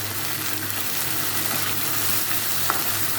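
Slit green chilies sizzling in hot oil with whole cumin and a bay leaf, a steady close crackle and hiss running without pause, with a faint low hum beneath and no talking.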